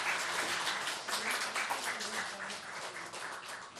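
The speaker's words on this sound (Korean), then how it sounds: "큰 박수 부탁드립니다." Applause from the congregation at a Baptist theological seminary graduation service, a dense, continuous wash of clapping sustained throughout.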